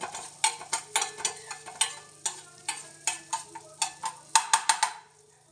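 A spatula scrapes and stirs broken wheat frying in a pan, making close, rhythmic clinking strokes about twice a second, with no voices.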